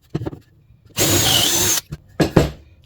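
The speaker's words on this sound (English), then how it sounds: "Then I come back with the 1/2 inch drill bit," A power drill bores through wood with a 1/2 inch bit, giving a steady loud whir for nearly a second, followed by a shorter second burst, with brief handling knocks before and between.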